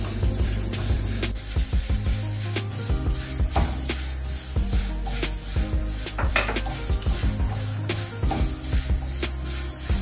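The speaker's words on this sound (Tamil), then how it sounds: "பயிர் வறுக்கிறது வெரி இம்பார்ட்டன்ட்" Lentils dry roasting in a pan for mothaham, with steady scraping and clinking of a spoon against the metal under a soft rustle and faint sizzle, close and continuous, with no voices.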